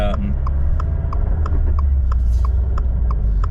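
A 2022 Subaru WRX engine with a stiff engine mount rumbles low and steady, with a regular ticking pulse riding on top of the hum; close and moderately loud.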